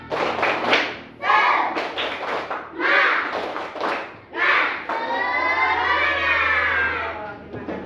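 Children in a classroom do a rhythmic spirit clap, bursts of chanting and clapping in quick patterned groups, followed by a sustained cheer with a steady hum underneath.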